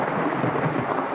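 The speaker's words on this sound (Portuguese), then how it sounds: "Ele estava no meio da floresta quando uma tempestade começou." A cartoon thunderstorm in a forest: a dense, continuous rush of rain and rumbling thunder, loud and steady throughout, with no voices.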